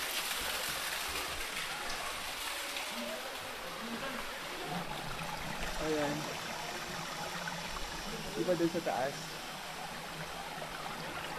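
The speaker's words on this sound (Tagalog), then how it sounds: "Ito yung kinanggalingan ng tubig." Water flows steadily from the source of an outdoor pool, a constant rushing wash close by, while a person speaks briefly over it.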